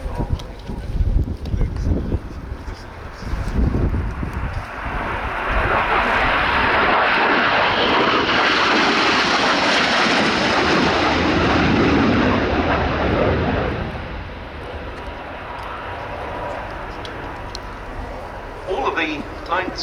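Spanish Navy Harrier AV-8S Matador jet at the RIAT airshow on a rainy day, its engine roar rising to a loud broad swell over the middle seconds and then fading, with a commentator's voice talking over it.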